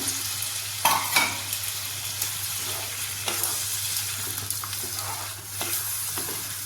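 Water from a rinsed bowl splashing into a hot pan of butter paneer masala, producing a loud, close, continuous sizzle and bubbling with a few stirring scrapes, no talk.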